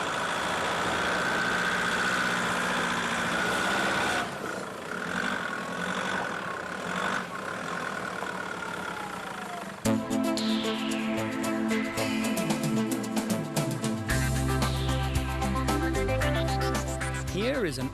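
A 4x4 with an automatic gearbox and locked front and rear differentials labours up a very slippery hill on clogged tyres, its engine droning and revving unevenly, with a shift to a harsher, rising tone partway through; voices talk over it.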